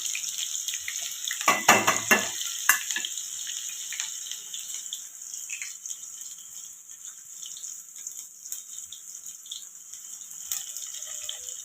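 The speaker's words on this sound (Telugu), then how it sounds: "ఆయిల్ వేడయ్యాక ఆనియన్స్ వేసుకోవాలి." Onions dropped into hot oil for a liver fry give a steady, bright sizzle. A short clatter of added ingredients comes near the start, then the hiss holds evenly and alone.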